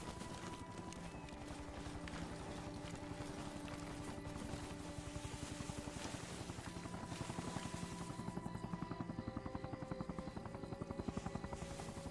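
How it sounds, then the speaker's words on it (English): A distant helicopter in the Arma Reforger video game gives off a low, rhythmic rotor thump that is faint and steady, running throughout and growing slightly stronger toward the end. "I hear the slight rumble of a chopper."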